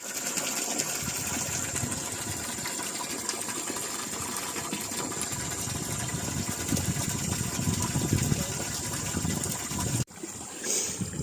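A newly installed solar water pump at a Musang King durian plot runs with a steady, continuous whirring drone and rushing water. The noise holds level throughout, then drops briefly and shifts near the end.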